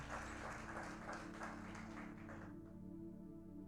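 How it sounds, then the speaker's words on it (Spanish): A church congregation claps together in sustained applause for about two and a half seconds, then the clapping fades out, leaving quiet room tone. "Dele una ofrenda de palmas por la palabra al Señor en esta mañana."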